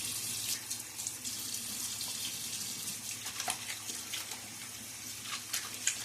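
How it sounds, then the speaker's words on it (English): Water runs from a tap and splashes during a wet shave, a soft, continuous hiss of flow with small irregular splashes, fairly quiet and close, with no talk. "Splash of water."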